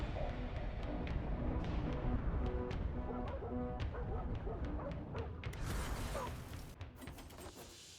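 Dogs barking and yipping in short repeated bursts during a Soulstone Survivors fight, mixed with game effects and a sharp whooshing burst near the end, with talk faintly underneath.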